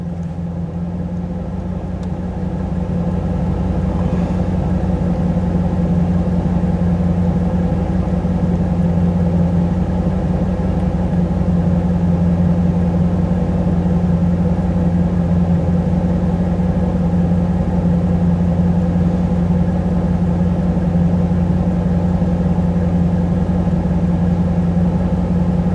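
A third-generation Camaro's 305 TPI V8 idles in drive, a close, steady, deep rumble with an even, unchanging drone throughout and no voices over it.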